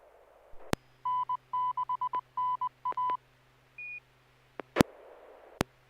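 Amateur radio tones on an SSTV net: a quick run of short, clear dialing-style beeps in clusters, then one longer steady tone, with sharp clicks and bursts around them. No voices.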